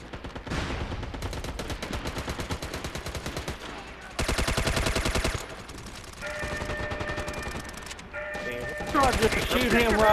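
Rapid bursts of shotgun and automatic gunfire in the online military shooter MAG, loud and dense with several distinct volleys and a heavier barrage near the end, while players talk over it.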